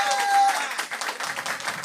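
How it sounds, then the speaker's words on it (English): Audience at a keyboard masterclass gives Dylan Smith a round of applause, a brief burst of many hands clapping at moderate level, fading slightly toward the end. "Y'all give Dylan a round of applause"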